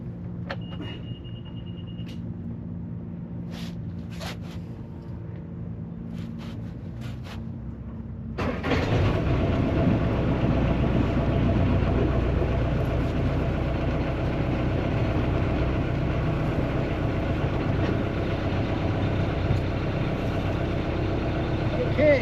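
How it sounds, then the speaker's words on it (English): A sailboat's inboard engine cranks and catches about a third of the way in, then runs at a steady, fairly loud idle rumble; a few clicks and a short tone come before it starts. "So let me start the engine."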